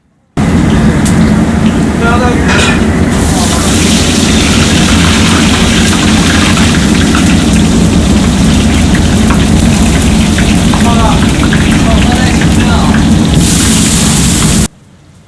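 Fish refried in a bowl of very hot oil in Chinese cooking, giving a loud, steady, rain-like sizzle and crackle that holds continuously for about fourteen seconds before cutting off.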